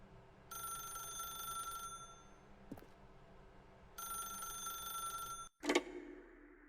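An old-style telephone in The Stanley Parable video game rings in two long trilling bursts separated by a pause, with a faint click between them and a sharp clatter as the receiver is picked up.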